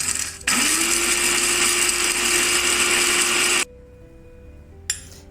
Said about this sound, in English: Blend all these ingredients into fine powder.